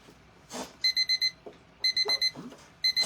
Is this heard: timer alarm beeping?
yes